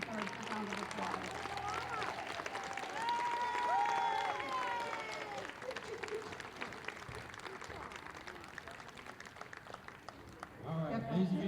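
An audience at the River Spirit Play during Chasco 2022 breaks into a round of applause with some cheering, steady and fairly close, with voices and what may be music threaded through before it briefly swells again at the end.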